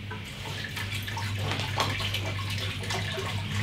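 A cup of purified water pours into a kitchen blender jar, a steady, close rushing splash that runs evenly for a few seconds with no talking.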